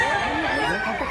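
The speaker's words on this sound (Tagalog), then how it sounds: "Meron pang manok yan nilagay mga idol." Chicken or rooster crowing and clucking at a rural countryside spot, moderately close, with outdoor background noise filling the short moment.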